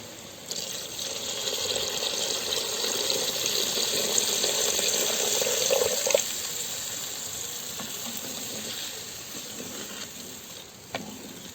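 Tamarind water pours steadily into a pot of fish gravy for several seconds, a continuous splashing rush that tapers off, followed by a few light clinks.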